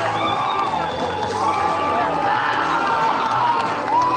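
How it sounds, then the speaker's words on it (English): Crowd at a state high school baseball game cheering after a home run over the left field fence, a sustained roar of shouts and whoops from the stands with an announcer talking over it. "You can hear the crowd."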